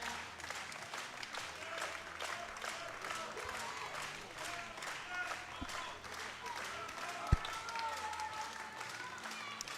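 Spectators at the men's 120 kg World Open Equipped Powerlifting Championships applaud steadily, a rippling mass of clapping with a few sharp knocks, moderately distant and continuous.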